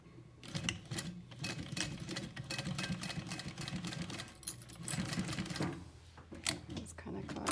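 A sewing machine stitching a handbag, its needle chattering in a fast steady run that pauses briefly and restarts, close and moderately loud beneath a person talking.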